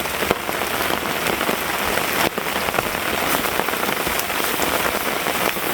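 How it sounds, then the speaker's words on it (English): Heavy rain pounds steadily on a lean-to tarp shelter at a campsite, a dense, close, continuous patter with no talk. "The rain's starting to kick up"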